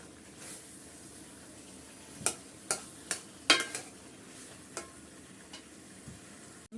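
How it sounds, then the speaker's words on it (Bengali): Chicken pieces cooked down with masala and a squeeze of lemon for a roast, giving quiet sizzling under a few sharp spoon scrapes and clinks against the pan, spaced irregularly and close by. "ভালো করে মশলাটা আপনারা মাংসের সাথে কষিয়ে নেবেন"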